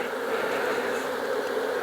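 A steady, dense buzzing of many honey bees, continuous and fairly close, with no voices, during a powdered sugar mite test.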